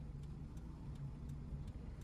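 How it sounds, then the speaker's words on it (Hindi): A car engine runs steadily with the car fully in gear during a driving lesson, a low continuous hum heard from inside with faint, evenly spaced light ticks. "जैसे इंजन वाइब्रेट करे, जब पूरी तरीके से गाड़ी गियर में एक्टिव हो जाए"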